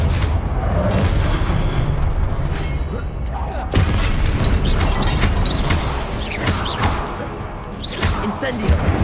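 Incendio fire spells cast in the video game Hogwarts Legacy, with repeated bursting booms and crackling impacts over continuous game action while a voice talks.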